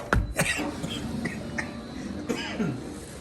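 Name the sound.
coughing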